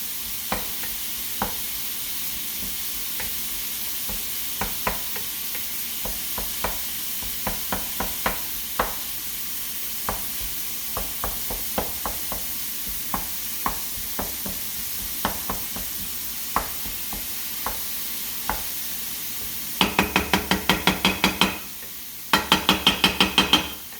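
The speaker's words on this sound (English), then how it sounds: "breaking down the ground beef for a second until I add my seasoning" Ground beef browns in a pan for homemade Hamburger Helper, a soft steady sizzle under repeated sharp scrapes of a utensil breaking up the meat, ending in two bursts of quick rapid stirring clatter, close and without talk.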